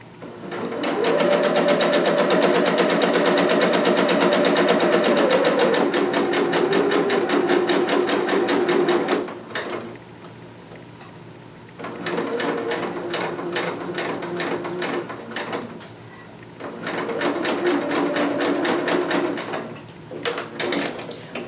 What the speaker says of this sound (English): I'm going to do the exact same thing and stitch that slightly less than 5/8